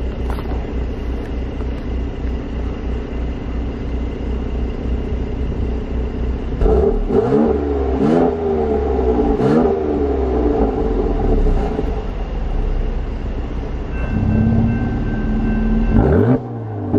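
A car engine in comfort mode idles with a steady low rumble, then gives a series of loud, close revs that rise and fall several times before settling again.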